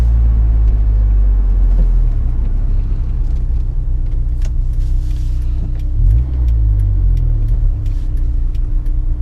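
A Honda S2000 convertible with a heavy clutch, driven with the top down in winter, gives a loud, close, steady low engine drone with a brief rise and fall in revs partway through.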